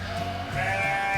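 Sheep bleating in a short, loud, wavering call that rises midway and holds to the end, heard alone and close in a read-aloud children's fable.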